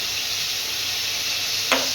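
Tomato frying in ghee with tempering spices, with a steady close sizzling hiss throughout and one short knock of a utensil near the end.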